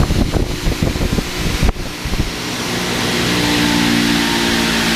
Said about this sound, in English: I'll start it up and let you hear both motors run